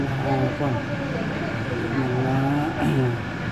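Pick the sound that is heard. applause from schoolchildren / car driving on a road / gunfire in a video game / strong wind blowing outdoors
car driving on a road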